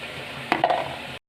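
A spice paste with yogurt stirred and frying in a pan: a soft, steady sizzle runs throughout, broken by a couple of brief spoon clinks near the middle, fairly quiet and close, with no talking.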